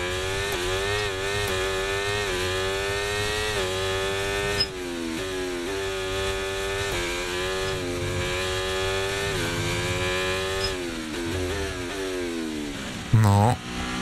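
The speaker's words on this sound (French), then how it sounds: "Je trouve le bruit du moteur atroce, voilà, je vous le dis. Je le trouve vraiment horrible, le moteur Ferrari." A Ferrari Formula 1 engine in a racing video game screams steadily at high revs, its pitch sweeping up and down through gear changes, loud and continuous with a brief sharp burst near the end.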